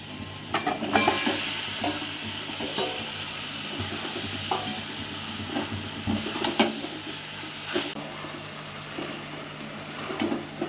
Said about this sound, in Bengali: মশলাটা ভালো করে কষিয়ে নিলাম, এবারে আমি মাংসটা ছেড়ে দেব।